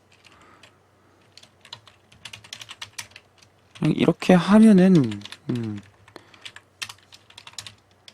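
Scattered computer keyboard keystrokes tap throughout, irregular and fairly soft, beneath a man's Korean speech that briefly gets loud and animated.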